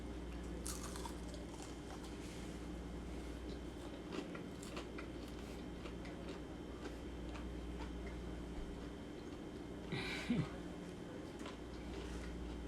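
Fried chicken gizzards and livers are chewed close up, quiet crunchy bites and soft mastication over a low steady background hum.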